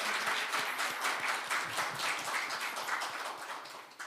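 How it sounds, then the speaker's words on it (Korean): Audience applause welcoming a guest, the parent-association representative, at an education book concert about kindergartens: a steady, dense wash of many hands clapping that holds for about four seconds before easing slightly at the end. "박수로 환영해 주십시오."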